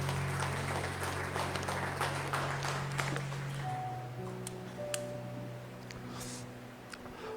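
A church congregation claps together for the Lord during a service, with dense clapping at first that thins and fades, while sustained keyboard tones ring underneath.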